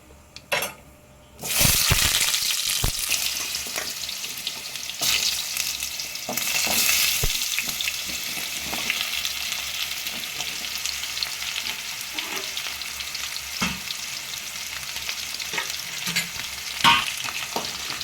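Cut pumpkin pieces dropped into hot oil with tempered spices in a pan for a Bengali pumpkin dish, a sudden loud sizzle that settles into continuous frying hiss with occasional stirring scrapes, close and steady.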